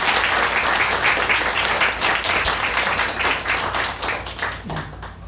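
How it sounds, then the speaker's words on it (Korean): A church congregation at a thanksgiving service applauds to welcome returning guests, former co-workers and founding members, a dense, steady round of clapping from many hands that carries on for several seconds before easing slightly near the end. "다 같이 한번 우리 박수로 환영하고 축복하겠습니다"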